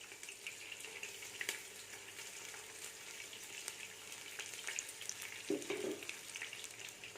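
Long-sliced onions for chicken biryani fry in oil with a faint, steady sizzle, joined by light stirring clicks and a brief watery bubbling near the end.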